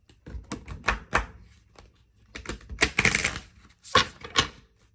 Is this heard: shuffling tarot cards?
yes